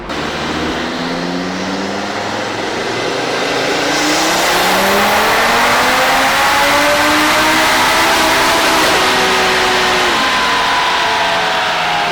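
Audi RS3 engine revving hard on a dyno, a loud, steady roar whose pitch climbs smoothly through the run, close and continuous without speech.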